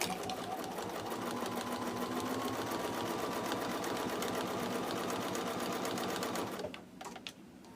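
A sewing machine runs steadily as it stitches around a quilt, a continuous, even mechanical whirr with rapid needle rhythm that holds for about six and a half seconds before stopping, leaving faint handling noise.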